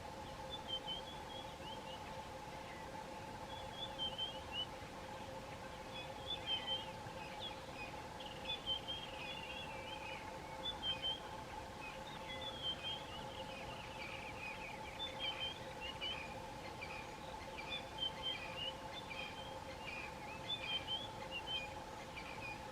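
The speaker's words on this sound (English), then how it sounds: "just listening at the bird call, the chorus of many different species of birds" A morning chorus of many bird species in the African bush near a marula tree: faint, distant chirps and trills repeating in scattered phrases over a steady low hum.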